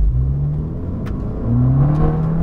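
Engine of an Abarth 695 Tributo Ferrari, a limited-edition 299-unit hot hatch, rising in pitch as the car pulls away hard, loud and close from inside the cabin, with a brief shift before the revs climb again.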